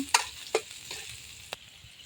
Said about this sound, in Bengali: পেঁয়াজ কুচি এবং কাঁচামরিচ। এই পেঁয়াজ মরিচটা একটু নেড়ে চেড়ে নিতে হবে।